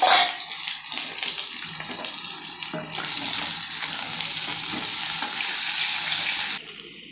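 Fish fries in hot oil in a home kitchen, a loud, rushing sizzle that swells and spits unevenly for several seconds before cutting off.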